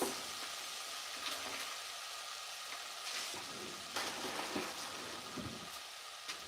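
Frozen peas dropped into hot brown butter in a pan, sizzling and crackling steadily at close range with scattered pops and faint stirring, no talking.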